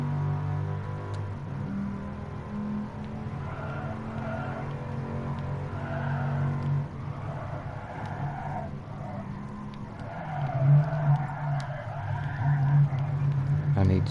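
Car engine drone with tyre skid squeals as the handbrake is pulled for circles in Gran Turismo Sport, a steady game-audio roar that swells louder near the end, with faint talk in the background.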